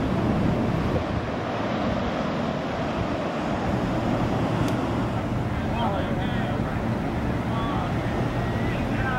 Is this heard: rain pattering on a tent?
no